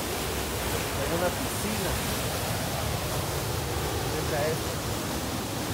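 A waterfall near Papallacta, reached along a muddy trail, pours as a steady, dense roar filling the whole scene without pause, with a person speaking briefly over it.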